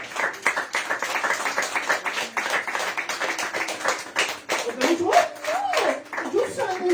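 A church congregation claps during a Spanish-language sermon, producing rapid, closely spaced claps that carry on steadily. Voices join over the clapping toward the end.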